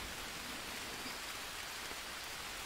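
Rain in the survival video game Green Hell, a steady hiss of falling drops on surfaces, even and continuous, with no voices.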